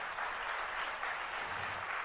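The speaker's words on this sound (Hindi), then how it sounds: "ताली बजाओ जोर से अच्छी।" An audience claps together in one sustained burst of applause, steady and moderately loud, with no one speaking over it.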